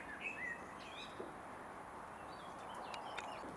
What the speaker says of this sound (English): The old song thrushes are singing well